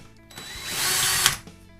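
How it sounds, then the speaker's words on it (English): A power drill bores a hole in a wall while shelving is being installed; one short whining burst spins up, holds briefly and winds down, close and with no talk. "drill my hole"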